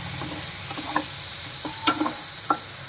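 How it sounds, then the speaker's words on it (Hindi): Onion and green chili frying in a pan for palak paneer kofta curry, with a soft sizzle under a few sharp clicks of a spoon stirring against the pan. "भून देती हूँ 2 मिनट"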